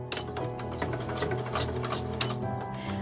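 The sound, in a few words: sewing machine sewing across a quilt corner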